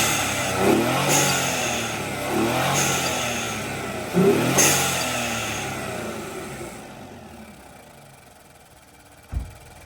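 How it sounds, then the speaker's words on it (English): An Infiniti Q60 engine fitted with fresh carbon revs in three rising bursts that fall away, then settles to a quiet idle before a single short thump near the end, with no talking. "I'm gonna give it a rev"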